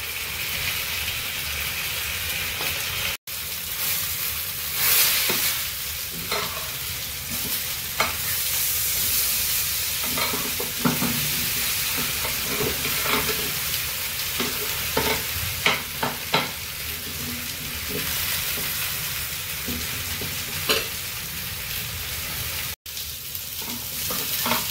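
Vegetables frying and sizzling in hot oil with steady stirring, a continuous crackle close by and occasional scrapes and clinks from a utensil against the pan, with no one speaking.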